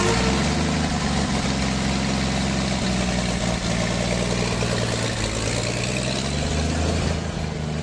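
A Chevrolet car engine runs steadily as a sound effect in a Brazilian radio drama set beside a roadside, a continuous mid-low rumble heard alone, loud and close, easing slightly at the end.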